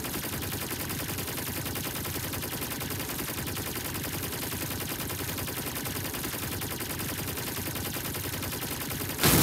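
Rapid automatic gunfire from video game guns blasts continuously at full loudness until they overheat, a dense unbroken roar with a brief burst right at the end.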